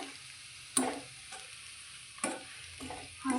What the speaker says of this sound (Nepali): अब चाहिँ एकछिन भुट्छु म यसलाई।